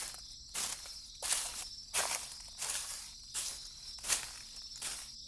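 Footsteps of two frightened children heading toward a dark forest at night, a steady series of crunching steps, about one every 0.7 seconds, over a constant background of insect and cricket chirring.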